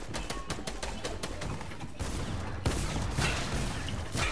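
A quick string of game gunshots from Fortnite crackles out in a fast series at first, then gives way to a denser, noisy wash of battle sound.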